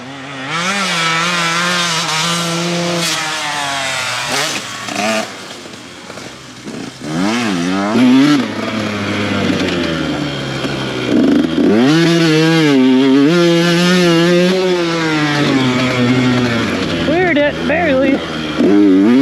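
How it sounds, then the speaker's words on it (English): A dirt bike engine, just fixed with a new carburetor, warms up and rides on a dirt track, droning loudly and steadily with revs that repeatedly rise and fall in pitch. "I'm just warming the bike up to get ready to go on the track"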